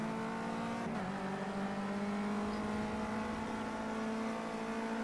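Race car engine in Project Cars 2 holds a steady high-revving drone with a brief dip near the start, as at a gear shift, continuous and loud with no talk.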